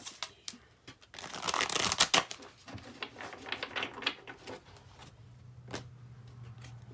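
Oracle cards are shuffled close by in quick riffles and bursts of papery flicking, loudest early and then thinning to scattered taps over a low background hum.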